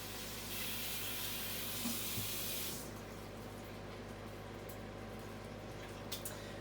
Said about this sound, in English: I'm gonna rinse my hands off.